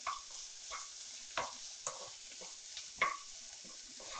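Onions sautéing in a pan for spinach soup, a faint steady sizzle with a few soft scrapes of stirring spaced through it, quiet and close, with no one talking.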